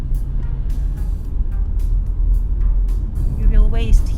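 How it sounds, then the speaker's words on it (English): Congested road traffic at the Balashikha bridge crossing near Moscow, with a steady low rumble of idling and creeping cars and heavier vehicles, brief hissing bursts and a passing vehicle swelling near the end, under faint talk. "Here is a constant traffic jam here"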